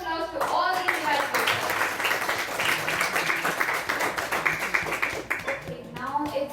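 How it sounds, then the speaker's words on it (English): Applause for invited speakers at a youth leaders' meeting, a fairly loud, sustained round of clapping from a group, framed by a voice speaking before and after. "let us give a big round of applause to all these invited"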